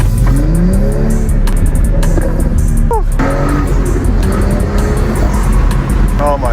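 BMW 340i with a B58 engine and downpipe tune accelerating hard, a loud continuous engine roar that rises and drops through several gear shifts, with a voice faintly present beneath it.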